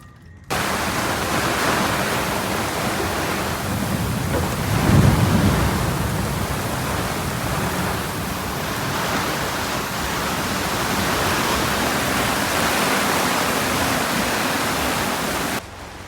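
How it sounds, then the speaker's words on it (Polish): A thunderstorm with heavy rain in Australia at the start of the rainy season gives a steady, dense roar of rain, with a low thunder rumble swelling midway. "to mamy burze"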